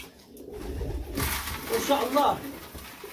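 Pigeons coo in a short low burst, a throaty rolling call heard close by, while someone speaks briefly over it.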